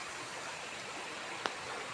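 Faint, steady rush of flowing river water at a riverside, a soft continuous wash with one brief tap partway through.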